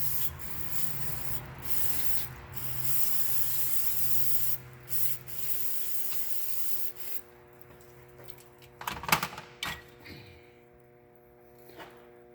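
Cleaner sprayed onto the injection pump of an M35A2 truck engine, a steady close hiss in long bursts broken by short gaps, ending in a few louder spurts and drips.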